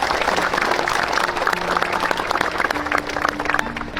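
Sustained audience applause at a West Java ceremony, a loud, continuous patter of many clapping hands with faint sustained tones running underneath.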